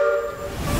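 Century-old Maria Fumaça steam locomotive sounding a sustained whistle or horn, a steady layered tone held loud and close for under a second with rumbling running noise building beneath it.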